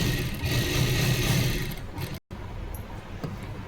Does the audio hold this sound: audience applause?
no